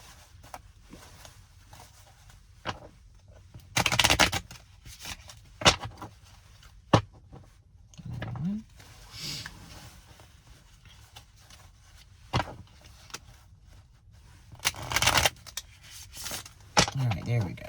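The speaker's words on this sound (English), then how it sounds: "Let's do one more shuffle." Tarot cards being shuffled by hand in a quiet room, with sharp riffling bursts and light rustles spread out between pauses, close and clear.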